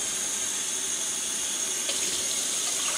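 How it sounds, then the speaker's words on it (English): Tap water runs steadily into a pot on the stove for making southern sweet tea, a constant close hiss and splash with no talking. "So for mine, I put 3 cups of water in the pot."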